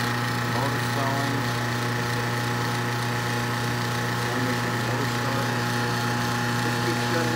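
A Kenmore Series 90 electric dryer motor runs with its belt off, a steady loud hum with a strong low tone and constant mechanical whir held at an even level throughout.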